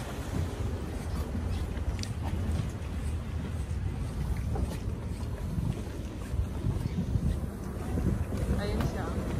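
Fishing boats coming in to the shore at the Doha Corniche fish market, a steady low engine rumble blended with heavy, constant wind buffeting the microphone throughout.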